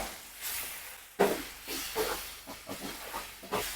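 Masala paste for a prawn roast sizzles in hot oil in a pan, a close, crackling hiss with bursts of spitting and popping over a soft steady frying background.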